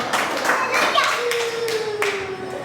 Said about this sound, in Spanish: Un aplauso a Dios, gloria a Dios